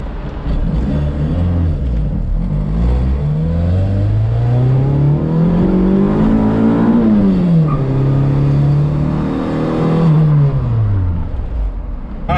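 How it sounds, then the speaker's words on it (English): Honda Civic EG with a D16 engine revs up through the gears on a highway drive, its note rising and falling repeatedly as VTEC engages, loud and continuous from inside the car. "gonna take you guys on a drive so you guys can see when the Vtec actually kicks in"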